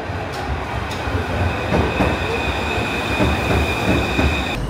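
A Paris subway metro train rumbles along underground, with a steady loud roar, a thin high wheel squeal running through it and faint rhythmic clacks of the wheels.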